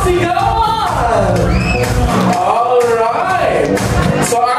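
Wedding guests shout, whoop and cheer together at a reception game contest, a loud dense crowd of overlapping voices with rising yells close by.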